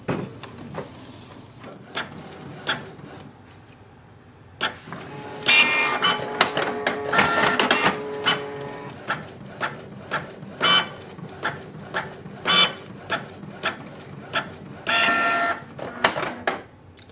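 A Canon Pixma G3060 inkjet printer making colour copies whirs and clatters loudly and up close, with a steady mechanical run followed by repeated clicks and short feed bursts and no talk.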